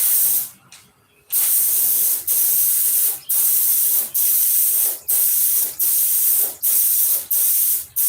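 Spray paint going on as a coat over a stripe: about eight sharp, loud hissing bursts, each roughly half a second to a second long, in a fairly even rhythm with short gaps between them.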